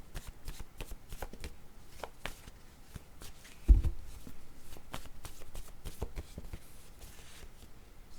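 A deck of cards shuffled for a card reading, with steady riffling and soft papery slaps over eight seconds, close by, plus one brief low thump partway through and no speech.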